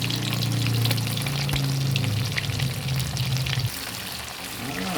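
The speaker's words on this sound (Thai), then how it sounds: "ทำการทอดกุ้ง กุ้งหอม ทอดกระเทียม" Shrimp and garlic frying in hot oil, a steady dense sizzle with a low bubbling hum that eases off near the end, heard up close with no talking.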